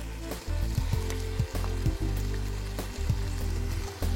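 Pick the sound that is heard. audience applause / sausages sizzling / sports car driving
sausages sizzling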